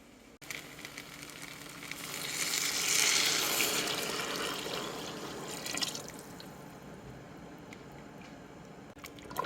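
Turkey stock pours into a pot for a leftover turkey stew, a steady liquid splashing and gurgling that swells midway and then settles into a softer trickle, close and alone.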